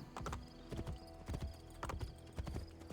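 Horse hooves clip-clop on the road in Assassin's Creed Brotherhood, a quick, even trotting rhythm of sharp thuds that stays steady and moderately close.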